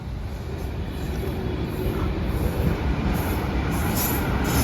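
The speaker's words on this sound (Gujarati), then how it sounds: "આ બાજુ ટ્રેન આવે." A train passing nearby, a continuous loud rumble of wheels and carriages that swells slightly toward the end.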